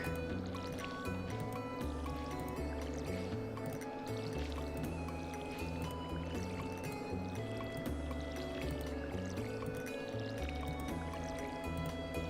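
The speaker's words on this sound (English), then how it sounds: "So we'll give these guys a water." A watering can pours onto crops in the farming game Stardew Valley, a soft splashing water effect running under steady background game music.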